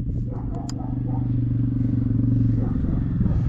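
A dirt bike engine runs just after being started and ridden off, with a close, steady low throbbing motor drone and a few clattering knocks.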